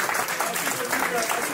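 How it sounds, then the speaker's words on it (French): Audience clapping at a live event, a short burst of dense applause from a crowd, fairly loud and close. "Applaudissez pour vous,"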